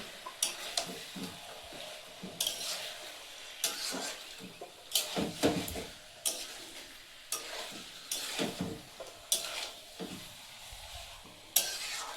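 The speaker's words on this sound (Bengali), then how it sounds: "এবারে চিকেনটা দিয়ে দেবো। কেটে রাখা টমেটো ভালোভাবে কষিয়ে নেব।" Chicken pieces and chopped tomatoes frying in spiced oil in a pan, with soft sizzling under repeated scraping strokes of a spoon and occasional clinks against the metal, close and intermittent.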